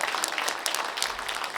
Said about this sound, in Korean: 여러분 다시 한 번 더 뜨거운 박수 부탁드리겠습니다